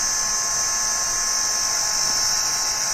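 A dryer blasts air over MDF craft pieces, giving a continuous close, loud hiss with a steady high whine and no break.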